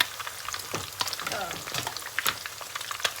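Snakeskin gourami frying in hot oil, a steady close crackle and sizzle with scattered sharper pops over a continuous hiss.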